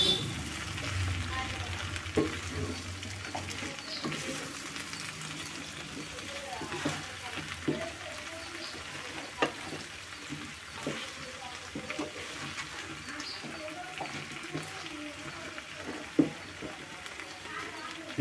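Cut okra pieces frying in a pan for a village-style okra pulusu, a steady low sizzle with scattered scraping and clinking stirs throughout, close and fairly quiet.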